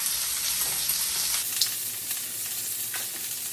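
Wagyu steak and potatoes sizzle steadily in a hot pan, a continuous close, bright frying hiss with occasional pops and crackles, heard without talk.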